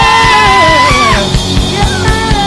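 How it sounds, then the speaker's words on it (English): A worship concert crowd screams and yells loudly and continuously in a large hall, over a sustained keyboard and a steady drum beat. "Now get out of your seat, run around and scream!"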